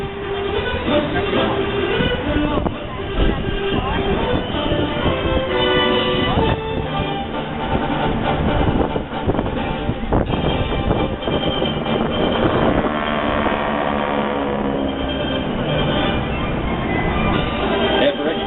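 Skytyper vintage aircraft maneuver in a mock attack at the Atlantic City airshow, their engines roaring loudly and continuously under a public-address announcer, with the pitch sweeping as the planes pass.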